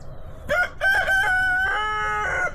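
A fluffy silkie rooster crows once, close and loud, in a drawn-out, quavering call over faint background noise.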